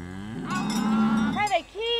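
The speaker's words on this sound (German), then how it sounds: "Am Nachmittag treiben Kathi und ich die Kühe zum Melken in den Stall." Cows on an Alpine pasture are driven to the stall for milking and moo loudly and close by, one long drawn-out low call followed by shorter rising moos.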